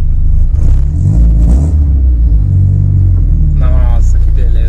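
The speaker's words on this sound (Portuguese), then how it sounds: "Ó o ronco dele, ó." Volkswagen Golf MK3 engine rumbling loudly from inside the cabin while driving, a deep steady low roar with a brief rise, someone talking over it near the start and end.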